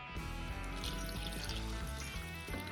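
Cold water pours steadily into a pot with chocolate chips for a vintage chocolate gelatin recipe, a continuous close trickle and splash alone without talking.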